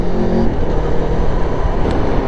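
A 2021 Aprilia Tuono Factory V4 motorcycle pulls hard on the throttle without the clutch, its engine roaring loud and close with a dense, gritty drone and no speech.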